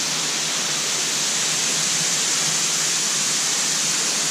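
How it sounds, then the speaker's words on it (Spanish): Loud, steady broadband roar of the tall El Chorro waterfall at Ejido Playa Santa, a close, unbroken rush of falling water with no voices. "Está súper, súper gigantesca, súper alta la cascada El Zorro."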